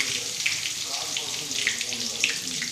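Garlic sizzles in hot oil with cumin seeds for a Marathi zunka bhakri dish, a steady, crackling fry with small pops, fairly close and continuous.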